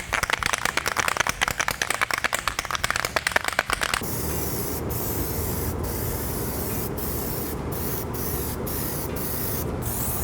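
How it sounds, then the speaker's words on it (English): Plasti Dip coating sprayed from an aerosol can onto an EVA foam helmet: a rapid rattling hiss for four seconds, then a steady close spray with short sharp bursts layered on top. "Let's get to spraying."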